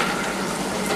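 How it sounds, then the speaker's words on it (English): Lukewarm tap water runs steadily over frozen shrimp in a kitchen sink, a close, even rushing stream with no talking. "I'm just going to run this under some just lukewarm water"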